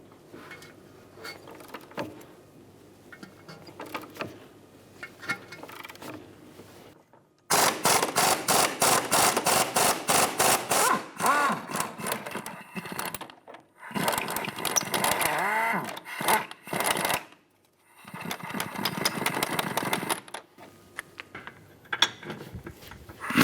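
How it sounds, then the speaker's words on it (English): Ratchet wrench with a 17mm socket backing out the top rear shock absorber bolt on a 2010-2015 Lexus RX350, rapid clicking bursts of several seconds separated by short pauses, close and fairly loud. "Using a 17mm socket, remove the top shock bolt."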